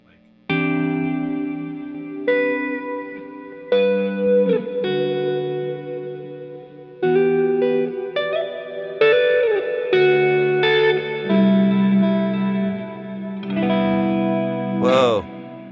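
Electric guitar chords and single notes ring out through an amp with lush reverb and chorus, phrases sustaining and trailing off, ending on a bent, wavering note.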